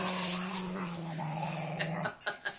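A dog gives a long, close, rumbling growl that breaks off into a few short whimpering yips at the end, with no one talking.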